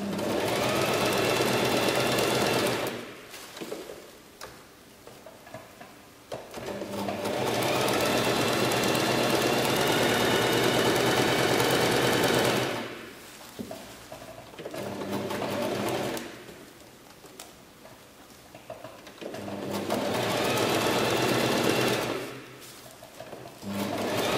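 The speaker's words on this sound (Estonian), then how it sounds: "nüüd saab päris kiiresti õmmelda" A domestic sewing machine stitches fabric in long, loud runs, speeding up after pins are removed, with brief pauses between bursts of steady mechanical whirring and needle clatter.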